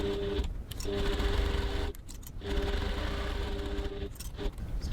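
A sewing machine stitches a crossbody bag about 3 mm from the edge with a stitch length of 3.5, running in steady close whirring bursts with two short pauses between runs. No voice is heard.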